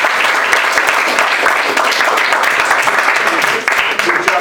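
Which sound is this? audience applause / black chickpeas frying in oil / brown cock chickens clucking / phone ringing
audience applause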